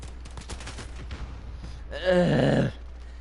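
Gunfire in Call of Duty: Modern Warfare, first as scattered sharp shots and then as a loud dense burst of about three-quarters of a second near the end, all over steady game noise.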